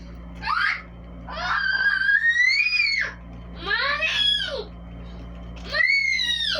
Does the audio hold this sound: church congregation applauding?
no